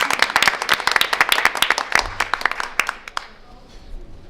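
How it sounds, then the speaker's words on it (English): Crowd applause at a school board of education meeting, a steady burst of many hands clapping that fades out after a few seconds into quiet room noise. "Let's clap them out. Give them a clap"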